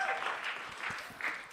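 Applause from a studio or panel audience, a short burst of light, moderate clapping with no voices.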